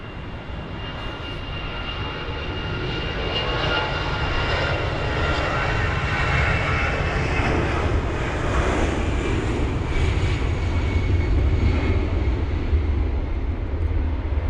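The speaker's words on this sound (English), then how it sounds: "We've got BA 568 departing now, Finnair operator for British Airways." A British Airways Airbus A320-200, operated by Finnair, departs London Heathrow bound for Milan, its jet engines giving a loud, steady roar that swells and holds throughout.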